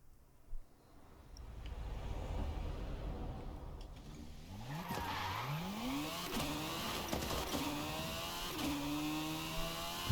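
Car drifting in Forza Horizon 5, an engine revving and whining in rising sweeps with tire skid squeal over steady road noise, loud and continuous, no talk.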